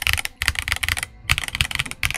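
Rapid typing on a Redragon K649 Elf Pro three-mode mechanical keyboard, with dense, close clacking keystrokes in quick bursts and two brief pauses, heard alone.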